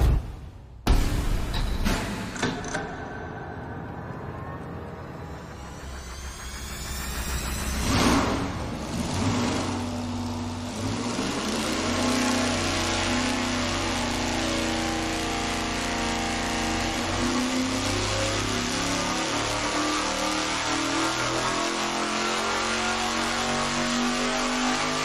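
A car engine on a dynamometer is run in one full pull from 3,500 to 6,500 rpm, its loud steady roar climbing in pitch and holding near full throttle for about twenty seconds, with no talking.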